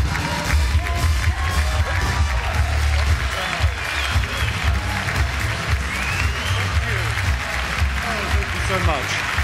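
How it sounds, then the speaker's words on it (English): Audience applause fills a ceremony hall at the 2015 BAFTA film awards, steady sustained clapping with scattered cheers and whoops, loud and continuous throughout, with a voice speaking faintly over it. "Please don't waste your sweet, generous applause on me."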